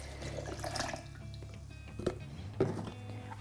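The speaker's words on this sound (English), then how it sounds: "then you'll go ahead and add your water" Water poured into a blender jar over soaked cashews for homemade cashew milk, a soft liquid trickle with a couple of sharper drip-like splashes near the end, close and fairly quiet.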